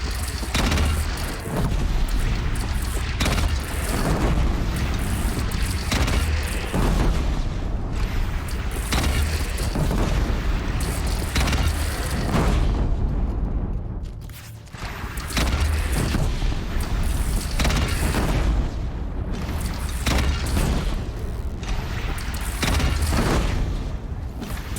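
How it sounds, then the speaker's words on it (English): Cannon fire and heavy booms from a bandit battle at a bridge in the video game Horizon Zero Dawn, loud and dense throughout with repeated blasts and mechanical clatter, briefly dipping near the middle. "They only have one cannon!"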